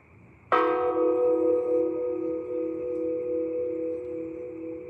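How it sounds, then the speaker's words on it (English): A single loud bell strike rings out after a brief pause, its rich harmonic partials sustaining and slowly decaying over several seconds, alone with no voices. "Kind of sounds like the bells at the end of the Dawn of the Dead movie"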